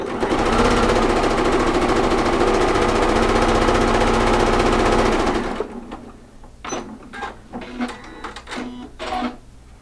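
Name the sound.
sewing machine sewing a triangle onto a quilt hexagon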